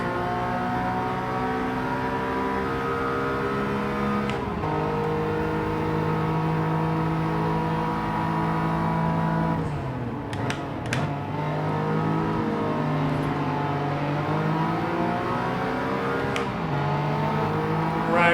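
A race car engine in Gran Turismo 7 drones loudly and continuously, its pitch climbing through the gears and dropping sharply at each shift, with brief bursts of revving.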